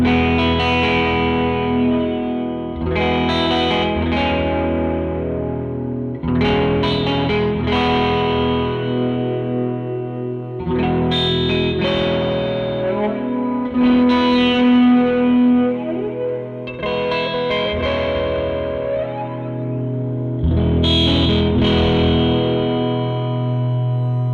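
A Death By Audio Disturbance phaser, flanger and filter pedal processes a loud electric guitar, played in strummed phrases of a few seconds each. The tone is heavily swept and distorted, with no talking.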